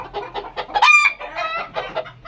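A farmyard rooster clucks close by in a quick run of short, choppy calls, breaking briefly into a higher, drawn-out crow-like cry midway before the clucking resumes.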